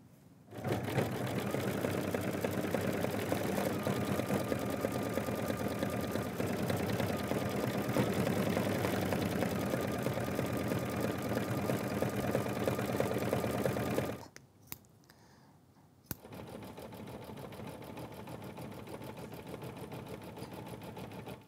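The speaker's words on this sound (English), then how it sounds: "I'm gonna change out my thread color for the yellow and it will do a top stitch around" A sewing machine runs a steady, fast top stitch around a quilt block in yellow thread. The close, even whir lasts about fourteen seconds, stops briefly, then resumes more quietly.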